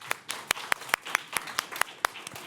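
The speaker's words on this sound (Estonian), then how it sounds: "ja plaksutame ka" Audience at a workshop giving a round of applause, with distinct sharp hand claps in a loose uneven rhythm, fairly close, and no talk over them.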